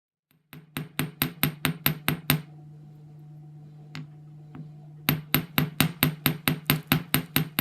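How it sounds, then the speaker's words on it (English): Rapid, evenly spaced metallic hammer strikes on a wire-wrapped earring's metal ear wire ring out in two bursts, separated by a pause with a lingering ringing tone and a couple of isolated taps. "it's time to hammer the ear wire"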